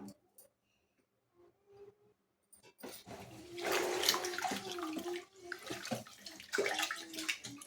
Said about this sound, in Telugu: వీటిని శుభ్రంగా రెండుసార్లు కడుక్కుందాం